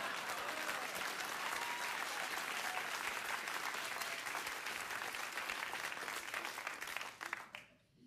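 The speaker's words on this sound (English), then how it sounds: "So a round of applause" Studio audience on a late-night talk show bursts into loud, sustained applause, a dense wash of clapping that holds steady for several seconds before tapering off at the end.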